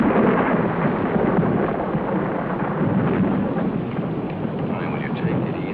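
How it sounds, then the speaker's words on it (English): Thunder rolls as a continuous, loud, low rumble, dense and unbroken for several seconds without a clear crack. "That's only thunder."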